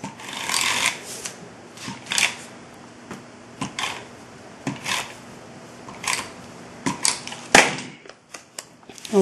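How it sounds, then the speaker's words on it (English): Adhesive tape pulled and pressed around the edges of a paper card, giving a run of crisp crackles, snaps and short tearing bursts at close range with uneven pauses, alone without talk. "So let me just run a real quick tape around the edges here."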